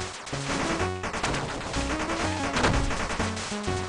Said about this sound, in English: Oh god, that's a giant rocket that he can shoot.